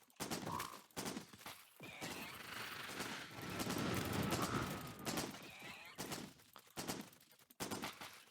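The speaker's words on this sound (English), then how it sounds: "Look out for those shots." Gunfire in the bullet-hell roguelite The Crackpet Show, a steady stream of rapid shots swelling into a loud dense burst midway, with game effects around it.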